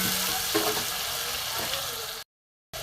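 Ground spice paste sizzling steadily in hot oil in a pan while being stirred for an egg dopiyaza, a continuous close frying hiss that cuts off briefly near the end.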